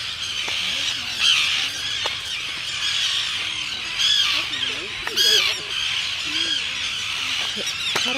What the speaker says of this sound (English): As we approach Great Gull Island, we could actually hear the gulls from all the way out in the water.